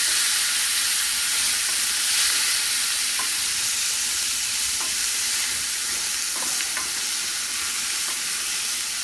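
Minced garlic frying in a pan for smothered pork chops, a loud steady sizzle and hiss close by, with a few faint taps of a spoon as it is stirred.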